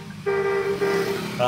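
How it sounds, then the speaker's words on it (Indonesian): A bus horn gives two loud, steady toots with a brief gap between them, then starts a third, heard close and alone. "Klakson bis,"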